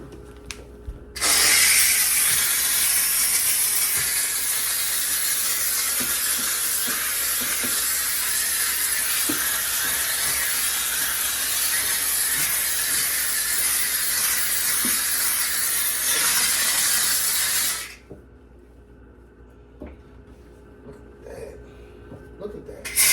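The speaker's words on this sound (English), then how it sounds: "I got my mcculloch. We're ready to go. The pressure is good. The steam is steaming." A McCulloch steam cleaner hisses loudly and steadily while cleaning a refrigerator, a continuous broadband jet of steam lasting about sixteen seconds before cutting off, leaving quiet handling noises.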